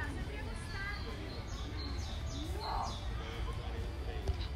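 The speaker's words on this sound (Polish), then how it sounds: "Ptaszki ćwierkają." Small birds chirp and tweet in a park in short, scattered calls at a moderate distance, over a steady background of low murmur and faint voices.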